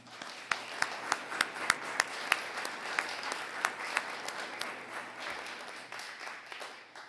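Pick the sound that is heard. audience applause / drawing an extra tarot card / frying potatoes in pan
audience applause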